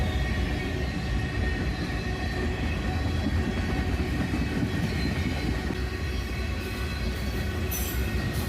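A northbound freight train's cars, including a cut of tank cars at the tail end, rumble steadily past at close range with continuous wheel roar and rattling, a brief higher screech near the end.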